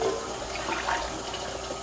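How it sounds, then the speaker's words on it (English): Water runs from a tap into a cooking pot, a steady splashing, filling stream close by with no talking over it. "take a pot and put about 2 cups of water in it right now"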